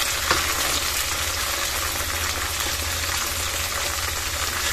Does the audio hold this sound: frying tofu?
yes